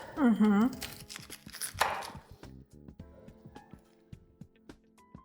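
A knife cuts a head of cabbage into quarters on a cutting board, giving a series of crisp, close chops and crunches in irregular rhythm, with a voice speaking at the start.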